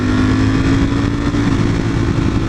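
A motorcycle engine drones steadily while riding at speed, a loud, constant low rumble mixed with wind noise and no speech.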